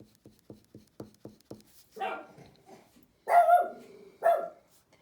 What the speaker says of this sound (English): You can hear my dogs barking in the background.